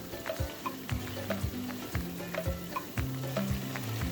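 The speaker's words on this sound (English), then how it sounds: "the onion is simmering very, very beautifully" Onion frying and sizzling in a pot as the base of a spinach stew, with steady crackling and repeated stirring clatter close by, no voices.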